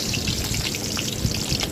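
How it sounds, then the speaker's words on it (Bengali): Three eggs frying in hot oil on a clay stove in a village kitchen, a dense, steady crackling sizzle with no voices. "আমি এখন ডিমগুলো ভেজে নেব।"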